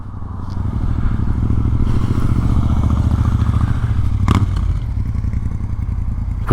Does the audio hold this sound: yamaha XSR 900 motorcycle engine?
yes